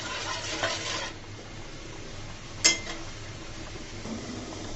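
Mango peel jelly being stirred in a pan: a quiet, steady scraping and bubbling with one sharp utensil clink partway through, with no talking.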